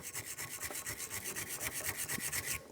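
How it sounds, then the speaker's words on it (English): A wire brush scrubs surface rust and brake dust off the brake caliper bracket of a Ford Focus in quick, rhythmic back-and-forth rasping strokes, close and alone, stopping at the end. "So a wire brush will do the trick."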